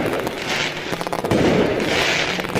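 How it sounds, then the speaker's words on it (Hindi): Diwali firecrackers bursting in a steady crackling barrage, dense overlapping pops and bangs filling the whole stretch without a pause. "खूब पटाखे फोड़े"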